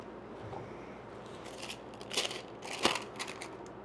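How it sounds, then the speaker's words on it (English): A few quiet, crisp snips and rustles of scissors cutting a circle of parchment paper for a cake pan, scattered irregularly over a few seconds. "I'm gonna come around with my scissors"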